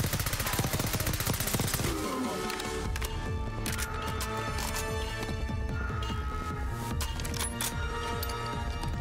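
Dense, continuous gunfire from a Call of Duty: Black Ops 6 match set in D.C., with rapid bursts and sharp cracks layered over game music and effects, loud throughout the mix.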